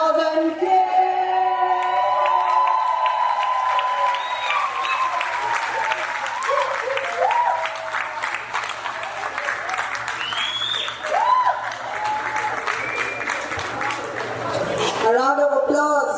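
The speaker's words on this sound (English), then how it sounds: "A round of applause for Dr." Sustained, loud audience applause at a Rotary district conference, steady clapping with shouts and whoops mixed in and voices talking over it, ending abruptly near the close.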